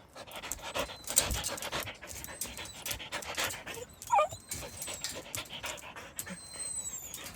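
Hunting dogs kept inside a filthy cage pant steadily and close by, with a brief whimper or yelp partway through over a noisy background.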